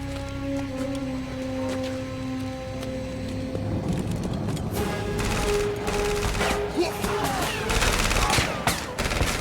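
Rapid bursts of distant gunfire from the east crackle over a steady background hum in a film scene, growing denser and louder toward the end.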